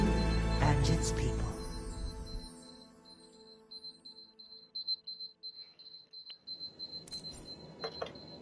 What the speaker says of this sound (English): just started hearing this fucking alarm